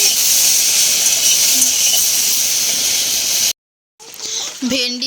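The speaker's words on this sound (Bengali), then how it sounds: "এইখানে হচ্ছে ভেন্ডি ভাজা করছি" Okra frying in a pan on a home kitchen stove, a steady loud hissing sizzle that runs for several seconds, cuts to silence, then returns fainter with voices.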